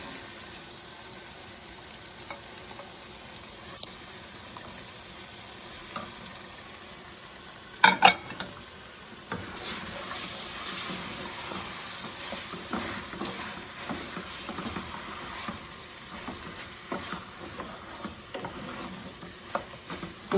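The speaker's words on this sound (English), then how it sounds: "So I'm going to add both the sweet peppers and the zucchini." Sweet peppers and zucchini hit a pan of softened fresh tomatoes for a mixed bean chilli stew with a sudden clatter, then a steady, soft sizzle and stirring take over, with no talking.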